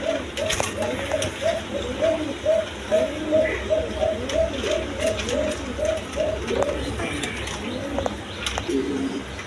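A pair of Basiraj pigeons in a breeder's loft coo in a steady repeating series, close and clear, each soft call following the last at an even pace over a faint background hum.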